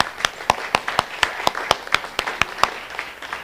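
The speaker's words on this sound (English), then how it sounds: "we just want to give all of our volunteers in this church a round of applause" Church congregation claps for its volunteers at a Sunday service: a sparse, fairly regular run of distinct handclaps, about a dozen sharp hits spaced roughly a quarter second apart, moderately quiet.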